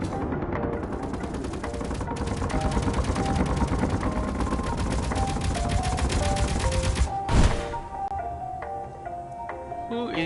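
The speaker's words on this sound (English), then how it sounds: "Who is shooting me?" Rapid automatic gunfire in the underground colony survival game Helios Underground Survival, a dense continuous burst of shots up close, ending with a louder blast and scattered ringing tones afterward.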